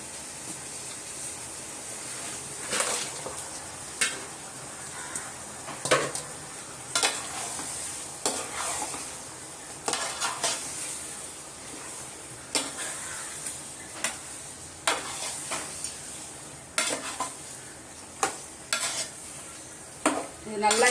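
Country chicken pieces sauté in masala in a pan, with a spatula scraping and clanking against the metal at irregular intervals over a continuous sizzle, close up and fairly quiet, with no talking.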